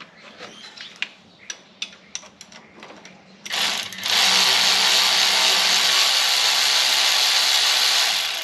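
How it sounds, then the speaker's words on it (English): A power tool whines in a loud, steady, continuous run while removing an air conditioner from a station wagon, preceded by several sharp clicks and knocks of handling parts. "Power tools. Beautiful thing."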